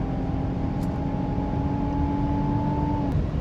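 Steady drivetrain drone with a thin constant whine inside a 2026 Nissan Armada NISMO SUV under acceleration, loud and even for about three seconds before easing off, with no talking.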